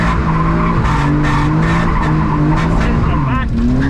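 A budget drift car skids round a corner with loud, sustained tire squeal over a revving engine, heard close and continuous with no pause.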